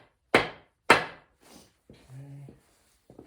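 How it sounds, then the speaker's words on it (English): Two sharp taps on the crankshaft of a Mopar 440 V8 during a rebuild, close and loud, followed by faint clinks and a brief low hum. "So we'll go ahead and give it a couple taps"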